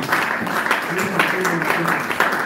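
Church congregation clapping and acclaiming during a charismatic conference, a dense close wash of applause mixed with shouts and voices throughout the short stretch.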